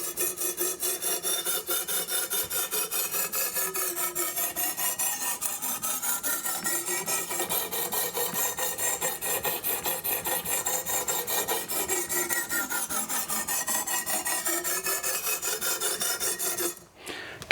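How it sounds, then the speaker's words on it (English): A knife is drawn along an abrasive stone from heel to tip in steady sawing strokes, giving a continuous close scraping rasp that repeats evenly for many seconds before stopping abruptly. "starting from the heel, we're gonna work our way with sawing motion all the way towards the tip"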